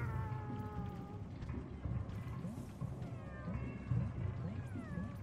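Video game cats meowing over and over, overlapping drawn-out meows at moderate volume under a low, steady background hum, with someone talking briefly.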